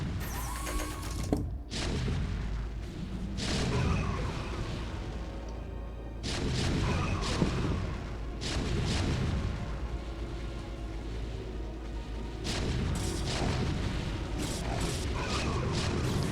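Siege tanks fire on units in the StarCraft video game, heard as repeated heavy booming blasts and crunching impacts mixed with battle effects, loud and continuous throughout.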